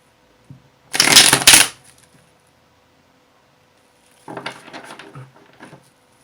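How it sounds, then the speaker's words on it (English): Tarot cards being shuffled in two separate bursts: a short, crisp riffle near the start, then a softer, longer run of flicks and slides a few seconds later, with silence in between. "I always shuffle the cards until they're just right."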